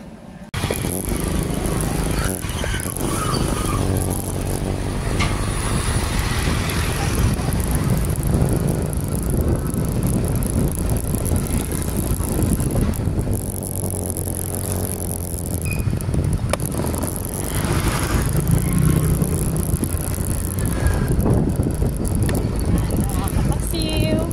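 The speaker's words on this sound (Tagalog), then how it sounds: "Yung aking motor." A motorbike ride on the road, with a steady, unbroken drone of engine and road noise that holds at an even level from start to finish.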